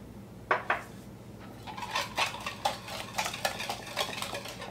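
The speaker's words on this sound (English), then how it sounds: "Stir that in a little bit" Vanilla being stirred into a sugary pecan pie filling in a bowl, with repeated close clinks and scrapes from the utensil that fall into an uneven, quickening rhythm.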